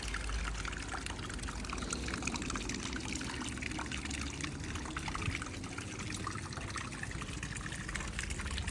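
Water pours and trickles steadily in a continuous, faint stream, close by, with no other sounds standing out.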